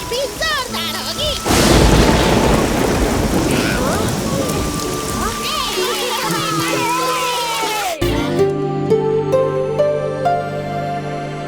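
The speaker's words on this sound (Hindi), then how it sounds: "लगता है इस बार बारिश भी जोरदार होगी।" Heavy rain pours loudly with a deep rumble of thunder in a children's cartoon, then gives way abruptly to music with sustained tones.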